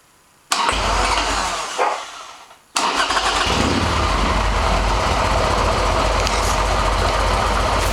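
A Harley-Davidson Sportster with a 2-into-1 exhaust cranks briefly, stalls, then fires and settles into a loud, steady, rumbling idle close by, with no talking.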